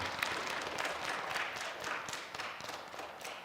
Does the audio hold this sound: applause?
yes